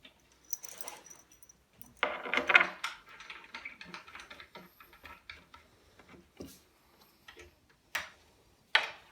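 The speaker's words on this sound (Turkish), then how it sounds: "Alyan başlı Vidamızı da dışarıdan alyan anahtarıyla vidalıyoruz." Hex key turning an Allen-head screw while a baby crib's headboard is assembled: scattered small clicks and ticks, sparse and light, with a few sharper taps, no talk.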